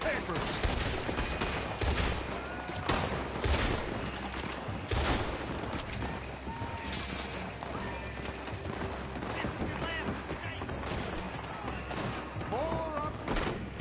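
Dense gunfire mixed with galloping hooves and horse whinnies in a Red Dead Redemption 2 shootout, sharp shots cracking repeatedly over a constant busy battle din.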